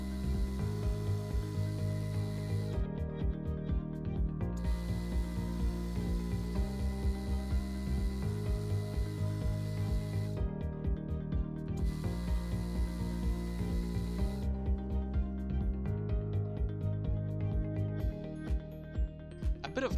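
Metal lathe shaping the outside of a ring held in a 3-jaw chuck, a steady mechanical whir with a fast ticking rhythm, close and continuous throughout, with no talking.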